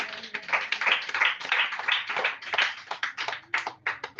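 A church congregation claps along during a Pentecost sermon, with rhythmic bursts of hand claps that rise and fall in a steady, moderately loud pulse.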